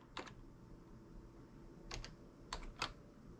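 A few quiet keystrokes on a computer keyboard, four or five isolated clicks spread over a few seconds with a low background hum.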